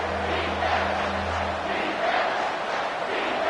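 A packed stadium crowd roars at an Alabama college football game against Mizzou on third down, a loud, steady wall of cheering and shouting that holds without a break for the whole stretch.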